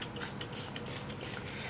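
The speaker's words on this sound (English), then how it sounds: "then you just spray it on your hair" A DIY moisturizing spray for natural hair is misted onto hair in four quick, hissing bursts from a pump spray bottle, evenly spaced and close, with no talking.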